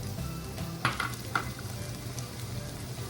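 Garlic and onion fry in a pan for Filipino-style beef shawarma rice, giving a soft, steady sizzle with a couple of brief utensil scrapes near the middle.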